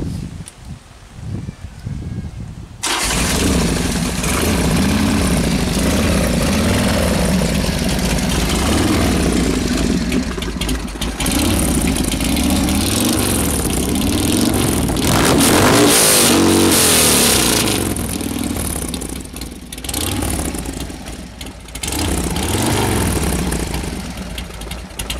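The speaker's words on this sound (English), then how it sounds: "Lai, do you want to fire it up?" A Harley-Davidson motorcycle engine starts after a quiet moment, then runs loud and close with a deep rumbling idle and several revs swelling and falling across the rest of the clip.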